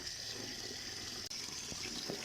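Kulfa saag greens are swished and rinsed in a basin of clean water, giving a steady close-up sloshing and trickling wash with a couple of brief splashes near the end and no talking.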